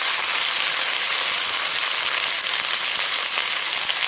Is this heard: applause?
no